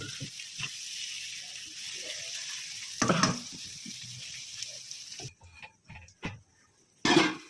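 Rice being stirred and fried in a pan gives a steady, close sizzle, broken by a few louder scraping stirs and quieter gaps near the end.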